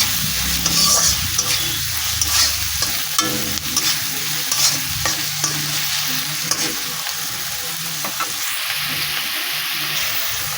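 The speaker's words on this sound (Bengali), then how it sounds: "পরিমাণ মতো লবণ দেওয়ার পরে আমি ভালো করে নাড়াচাড়া করে নেবো" Salt and turmeric stirred into egg posto in a pan, with a loud, constant sizzle of frying under repeated close scraping strokes of a spoon, no voices.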